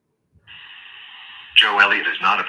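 A telephone call is placed, with a steady ringback tone for about a second before a recorded voice answers and speaks.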